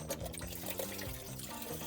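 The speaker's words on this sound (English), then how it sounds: "And I'm pouring fuel everywhere." Fuel gushing and splashing from the brim-full tank of a crashed Mustang Dark Horse, a steady close liquid pour with bursts of spatter throughout.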